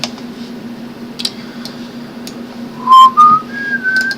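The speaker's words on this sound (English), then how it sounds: "whistling sounds horrible on a microphone" A short whistled tune, whistled into a microphone, rises and wavers over a steady low hum, a few clicks scattered before it, the whistle fairly loud and close.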